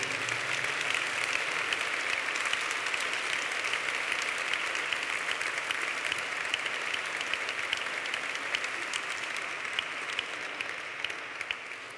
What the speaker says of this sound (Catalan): un molt fort aplaudiment, perquè, com us deia, ells també es graduen avui